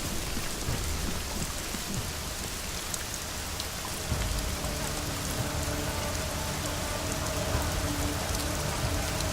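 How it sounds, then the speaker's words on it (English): Heavy rain in the video game Deus Ex: Mankind Divided pours steadily and loudly throughout, a dense hiss of drops with a low rumble underneath and no voices. "This rain is so loud."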